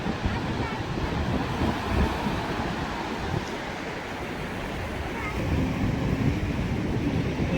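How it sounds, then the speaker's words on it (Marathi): Arabian Sea waves at Alibag wash against the shore in a steady rushing surge as the tide comes in, mixed with wind buffeting the microphone. "लाट बघा पाणी बघा वाजले भरती आले"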